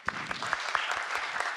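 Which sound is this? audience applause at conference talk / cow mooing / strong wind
audience applause at conference talk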